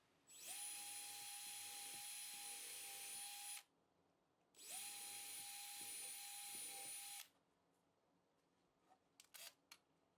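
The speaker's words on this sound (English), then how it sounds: "Mark your holes, drill your pilot holes," A power drill bores pilot holes for a wall bed safety lock in two loud, sustained bursts of about three seconds each, separated by a brief pause and followed by a few faint clicks.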